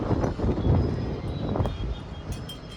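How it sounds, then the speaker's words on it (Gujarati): Steady, strong wind roars and buffets the microphone in a continuous broad rush, with no voices. "કેટલો પવન છે ને મસ્ત."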